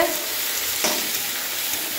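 Sliced pointed gourd seasoned with salt and turmeric fries in hot oil on a stove, a loud steady sizzle with a single stirring scrape partway through.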